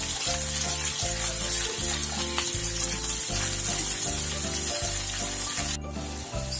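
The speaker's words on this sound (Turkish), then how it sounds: "1-2 dakika sosislerimizi kızartalım." Loud, steady sizzling of sausages and potatoes frying in a hot pan, with a rhythmic scraping of stirring and no talking.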